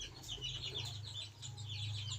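Chickens cluck and chatter softly on a farm, busy overlapping calls over a steady low hum, heard at a moderate distance with no talk.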